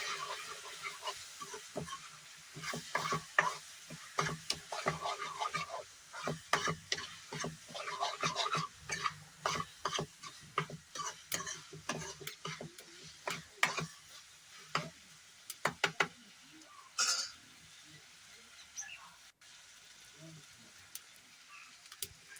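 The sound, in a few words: stirring and mixing masala spices in a cooking pan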